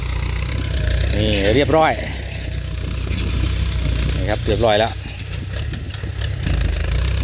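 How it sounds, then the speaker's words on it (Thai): A Ford 6610 tractor ploughing a rice field drones with a steady, low, loud engine rumble, while someone talks over it in two short bursts. "วันนี้จัดรถไถฟอร์ดครับ6610ครับ"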